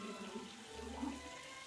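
Bath water running steadily from a tap in What Remains of Edith Finch, a continuous soft rushing and splashing that stays low and even throughout.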